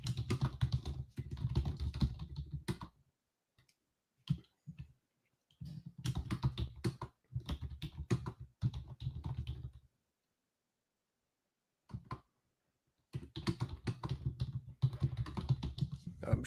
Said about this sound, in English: I'm just typing in our group.